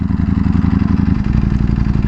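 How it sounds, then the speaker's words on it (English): A Ducati Panigale V4S sport motorcycle engine idles close by, a steady, rough, pulsing low rumble with a fast uneven beat and light mechanical clatter, alone without voices. "The idling, it sounds good. It sounds like a, you know, something exotic."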